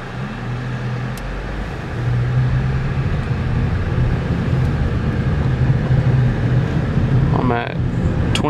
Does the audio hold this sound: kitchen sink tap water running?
no